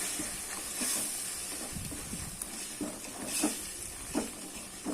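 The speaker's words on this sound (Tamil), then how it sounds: "அதையும் சேர்த்துட்டு நல்லா இது வதக்கி விட்டுடலாம்" Ground tomato paste with turmeric sautéing in a pan for village-style tomato rice: a steady soft sizzle and hiss with occasional stirring scrapes, close and moderately quiet.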